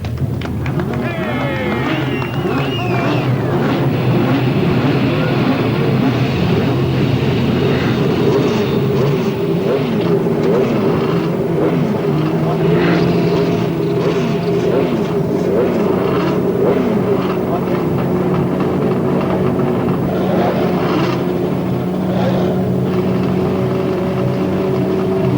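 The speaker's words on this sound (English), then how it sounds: "Gentlemen, start your engines." Several 1989 CART race cars at Laguna Seca fire up and run, a loud sustained mix of engine drones and whines with rising and falling tones, mixed with crowd noise and some speech.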